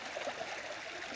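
A river stream flows in the countryside, a steady close trickling and gurgling of water that continues without a break.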